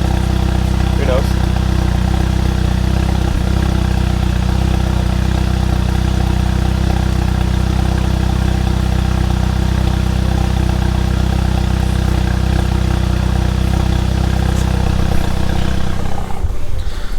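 A car with an HPA Stage 2 tune idles close by in a steady, loud low rumble with an even drone that holds unchanged, shifting only slightly in the final second.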